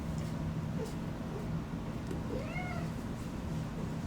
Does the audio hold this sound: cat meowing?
yes